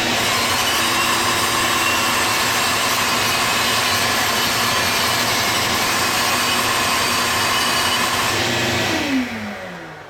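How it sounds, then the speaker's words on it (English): A rotary power carver with a Typhoon cylinder burr grinds into a wooden Santa ornament, producing a loud, continuous high whine close by that winds down at the end. "I've just got a Typhoon cylinder burr in here."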